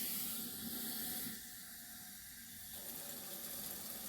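Water poured from a container into a vessel for homemade disinfectant wipes, a soft steady hissing stream up close, briefly thinning midway before resuming.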